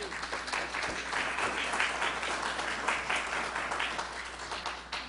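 Audience applause in a lecture hall before a history talk on Sudbury militia companies, steady moderate clapping from a crowd throughout, slightly distant and even in level.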